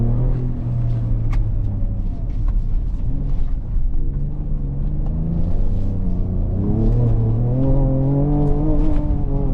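A 2024 Ford Ranger Raptor crawls off-road over boulders, its engine rumbling loud and close with rising and falling revs as the truck climbs and lurches over rocks.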